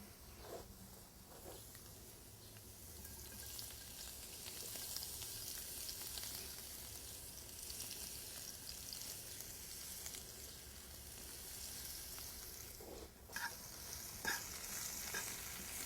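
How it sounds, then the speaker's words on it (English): Sliced red and green peppers, onions and chiles saute in a hot iron skillet for fajitas, giving a continuous low sizzle and hiss with a couple of brief scraping stirs, quiet and without talk. "And we're going to go ahead and saute these on an iron skillet."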